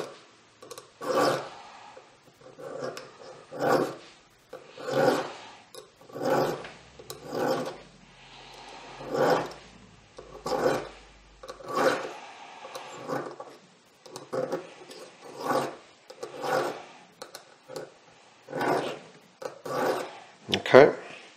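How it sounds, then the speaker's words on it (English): A hand file rasping at the upper locking lug of a rifle barrel held in a vise during barrel fitting, with slow, regular, close strokes, each a rough scrape, repeated about a dozen times. "So I'm going to give that a quick file."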